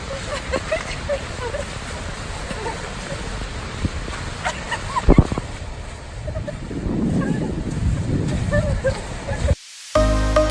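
Skogafoss waterfall in Iceland gives a steady rushing roar on a rainy day, mixed with gusty wind buffeting the microphone, while people talk intermittently over it.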